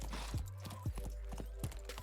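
Horse hooves clip-clopping in The Sims 4 video game: a steady, moderately close series of hollow hoof knocks in a walking rhythm, about five or six beats, over a low background hum.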